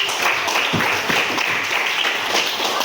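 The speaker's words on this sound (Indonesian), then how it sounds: "beri aplaus" Classroom applause from a group of students, steady dense clapping filling the whole moment at moderate loudness with no talk over it.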